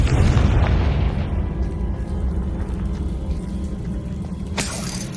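A deep Confringo blasting-spell explosion from the video game Hogwarts Legacy booms at the start and rumbles away, then a sharp crack or burst of debris lands near the end.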